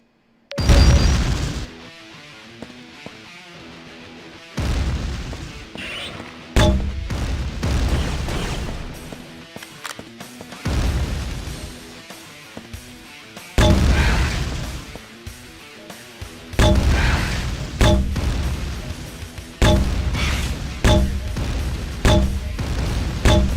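Grenade explosions in Quake 2 on the PlayStation, a string of loud separate blasts bursting every few seconds, each with a short crashing decay, with no talking over them.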